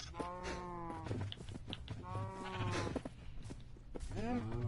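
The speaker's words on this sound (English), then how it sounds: "And some of the sheep are growing up too." Minecraft sheep bleat in three wavering calls spaced a second or two apart, moderately close, with faint game background sounds between them.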